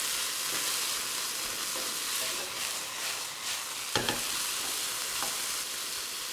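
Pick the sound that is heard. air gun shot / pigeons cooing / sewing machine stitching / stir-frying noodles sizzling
stir-frying noodles sizzling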